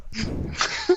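A single sharp sneeze bursts out, close and loud, followed by a brief sniff or breath at the end.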